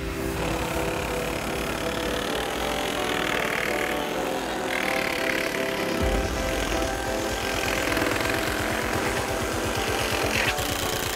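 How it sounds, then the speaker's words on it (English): A Milwaukee Sawzall fitted with a carbide-tipped axe blade cuts through stacked laminate flooring, valley tin and a 2x10, buzzing steadily for about eleven seconds with a harsher, faster rattling stroke in the second half. "For this next test, we've got the carbide tipped axe sawzall blade."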